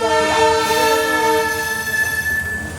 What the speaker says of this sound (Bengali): রেল গেট বন্ধ, ট্রেনটা যাচ্ছে